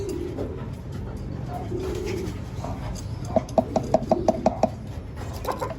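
African lovebirds in a breeder cage give soft cooing calls, with a run of sharp knocking or tapping taps late in the clip over low background rumble.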